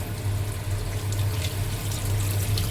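Water splashes and runs while rice is being rinsed in a home kitchen: a continuous close, steady wash of pouring and sloshing water over a low hum, with no voices.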